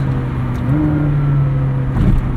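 Engine of an orange McLaren 765LT sports car, its steady drone climbing in pitch as the car pulls harder, loud and unbroken for a couple of seconds.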